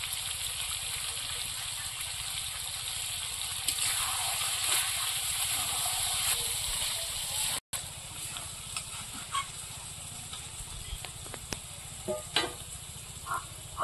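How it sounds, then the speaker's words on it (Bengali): A pan of curry bubbles and simmers steadily, a soft continuous sizzle with faint stirring clicks and small pops, close and moderately loud with no talking. "এবার তরকারিটা ফুটিয়ে নেব।"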